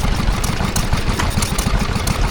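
A Ruston Hornsby stationary engine runs at a steady idle at a tractor festival, a loud, close, rapid thudding beat with low knocking pulses, powering a wood-turning machine, no voices.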